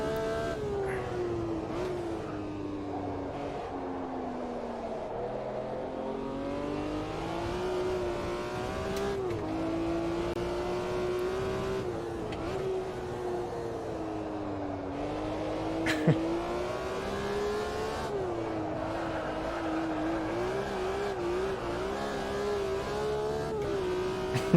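A race car in Automobilista 2 laps Hockenheim with a continuous engine drone that rises and falls in pitch through gear changes and corners, loud and close, with a brief tyre-scrub spike midway and no talk.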